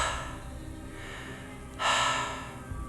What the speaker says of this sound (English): Then I heard it, breathing.